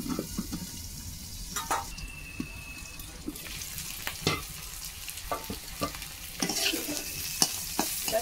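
Onion and taro stems fry in a pan for a traditional Bengali village curry, with a soft steady sizzle broken by scattered clinks and stirring scrapes, fairly quiet and close.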